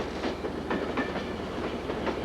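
A freight train rolls along the main line near Stockton, wheels clattering in an irregular clickety-clack rhythm over a steady low rumble, moderately close.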